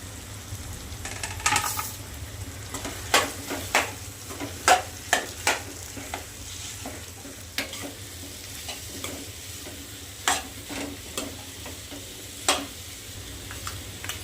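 A spoon stirring boiled potatoes into hot spiced oil in a frying pan for a homestyle potato bhaji: steady sizzling under repeated sharp scrapes and clinks against the pan, close and moderately loud, with no talk.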